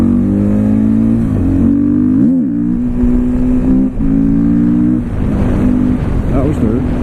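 A 2014 KTM 450 XC-W supermoto motorcycle accelerates through its gears, its loud, close single-cylinder engine droning and rising in pitch, with brief dips at the shifts.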